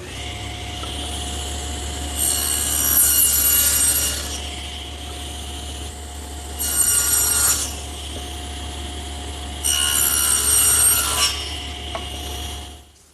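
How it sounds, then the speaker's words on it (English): A table saw fitted with an adjustable dado head cuts tenon pieces for a blanket chest: three separate passes, each a loud close rasping bite into wood over the motor's steady hum, with brief gaps between cuts. "Now I've removed my regular table saw blade and installed this adjustable dado head."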